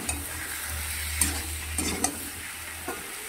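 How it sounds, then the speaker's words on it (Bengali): Chicken scraps and skins frying in a pan, a loud close continuous sizzle with occasional stirring knocks against the metal and a low hum underneath, no voices. "ভালো করে এগুলোকে ভাজতে হবে। এবার স্কিনগুলোকে দিয়ে দিচ্ছি।"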